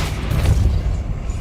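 Depulso spell cast in the video game Hogwarts Legacy, a short deep rumbling boom that swells and fades over about a second and a half, loud and close with no talk.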